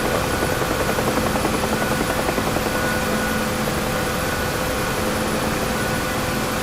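A simulated UH-1H Huey helicopter in DCS drones with a loud, steady rotor and turbine whine, its blade beat pulsing evenly throughout without any voices.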